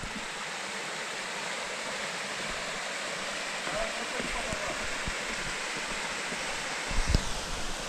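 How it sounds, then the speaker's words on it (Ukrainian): A steady, broad rush of a small mountain waterfall in the Gorgany, Carpathians, fills the scene, constant and close, with brief rustles and a faint thump near the end. "Щось малесенький водоспадік, можна сказати."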